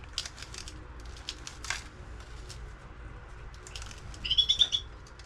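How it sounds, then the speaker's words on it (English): A bird flies inside a greenhouse, giving faint flutters and then a short run of high chirps near the end, heard over quiet room background. "We may have a bird that just flew in here."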